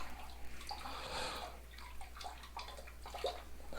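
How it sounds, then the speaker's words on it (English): Water squeezed out of a cleaning sponge while cleaning an oven, a soft continuous splashing and trickling with small drips, close and fairly quiet. "I'm just emptying out the sponge again."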